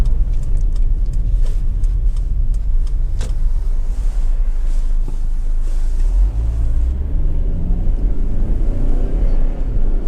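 2008 Honda Accord 2.4 i-VTEC EX Tourer estate driving along, a steady low engine and road rumble heard from inside the cabin, continuous and fairly loud with faint clicks and a brief tonal shift midway.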